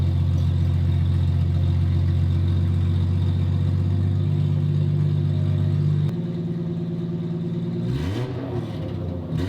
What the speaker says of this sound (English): One does not do an exhaust upgrade without seeing what it sounds like straight piped. So here it is. We're letting it warm up.